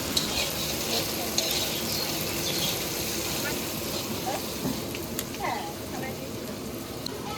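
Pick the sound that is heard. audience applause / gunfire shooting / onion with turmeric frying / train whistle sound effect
onion with turmeric frying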